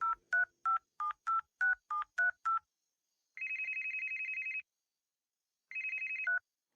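A telephone keypad dials a string of eight quick beeping tones, then the line gives two long electronic ringback buzzes separated by a pause, clean and close with no voices.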